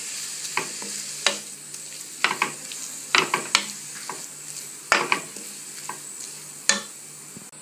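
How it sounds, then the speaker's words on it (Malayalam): Grated carrot for carrot halwa stirred in a hot pan, with a steady sizzle under repeated scraping strokes of a spoon against the pan, close and fairly loud, no talk. "ഇനി ഇത് നന്നായിട്ടൊന്ന് ഇളക്കി കൊടുക്കുക"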